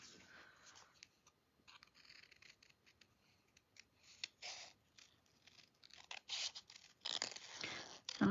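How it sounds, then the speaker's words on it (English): Scissors cut paper to trim a card closely, in short irregular snips and crisp slicing bursts that grow louder and more frequent toward the end, heard alone with quiet gaps between cuts. "I'm not going to necessarily fussy cut it, but I am going to get a bit of a close cut."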